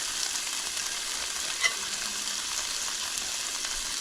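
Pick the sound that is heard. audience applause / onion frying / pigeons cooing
onion frying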